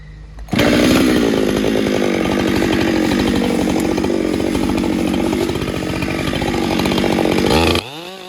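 A chainsaw bites into a big tree, roaring loud and close at a steady high pitch for about seven seconds before cutting off abruptly.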